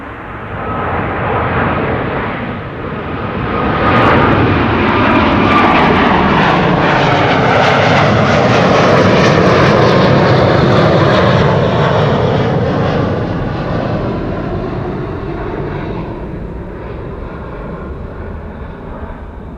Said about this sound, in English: Taking off from runway 24, luckily for us.